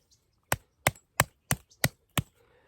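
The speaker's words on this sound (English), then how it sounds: "All right, let's see how it does at some chopping." A BPS Knives Savage budget utility knife chops into a quarter-sized round of wood, six sharp, evenly spaced strikes about a third of a second apart, crisp and close with quiet between them.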